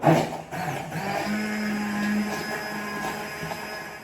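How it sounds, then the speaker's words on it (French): A blender whirs through strawberry syrup with fruit inside, a steady mid-loud motor hum after a brief start, running alone for a few seconds. "je viens mixer mon sirop avec ces fraises à l'intérieur"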